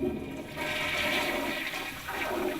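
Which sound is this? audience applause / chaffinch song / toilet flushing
toilet flushing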